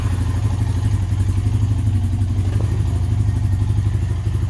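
A Honda Rancher 350 ATV engine idles steadily after a differential rebuild, a loud, close, continuous low rumble with a rapid even chatter and no talk.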